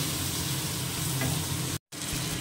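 Green chillies are sautéed with turmeric, salt and ginger for a pumpkin-leaf dish, producing a constant close sizzle and hiss with light stirring, cut off by a brief moment of silence before the frying resumes.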